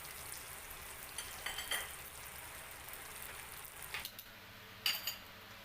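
Banana cassava rolls fry quietly in a pan, making a steady soft sizzle with a few brighter crackles and pops, faint and with no voices over it.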